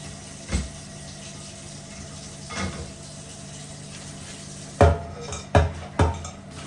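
Dishes being washed under running water: a steady faint wash beneath a few separate clinks and knocks early on, then three sharp close clatters in quick succession near the end, with no talking.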